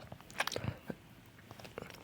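Roshen Yummi Gummi jelly candies are chewed up close, with soft squishy bites and small crunchy clicks at an irregular pace, quiet and without talking.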